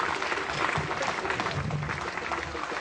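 An audience at a school ceremony in Côte d'Ivoire gives a dense, steady round of applause that carries on evenly throughout.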